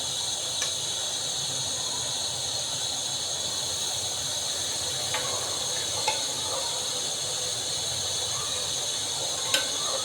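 Ginger garlic paste sizzles in a hot pan in a home kitchen, a steady, faint hiss with a few soft clicks and pops scattered through it.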